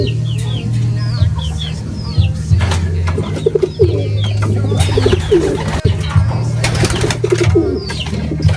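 Racing pigeons coo in soft throaty rolls and murmurs in a loft, with the steady hum of an electric fan or motor and some faint chirps and rustling around them.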